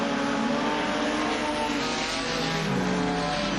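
Speedway race cars, including a little Commodore leading, roar steadily through turns 3 and 4, a dense continuous engine drone with shifting pitch as the pack sweeps past.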